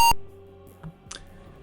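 A single sharp electronic beep from the DOS game Attack of the Space Cats, followed by faint clicks and a brief soft blip over a low background hum.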